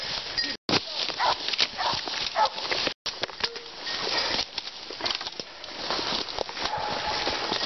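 A Catahoula cur dog working the blood trail of a wounded deer outdoors, with dog sounds mixed into rustling movement and people talking throughout.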